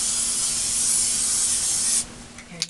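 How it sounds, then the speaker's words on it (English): Steady, close hiss of a spray can coating thick cardboard with adhesive for about two seconds, then it stops abruptly, leaving faint handling noises. "So you want to spray it really well,"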